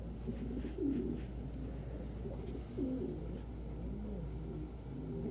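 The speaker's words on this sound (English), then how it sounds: "Now he's excitedly calling her over to the nest box he's picked out for their next clutch." A pet dove or pigeon-like bird coos to its mate near a nest box, with a few soft repeated coo phrases over a low steady indoor hum.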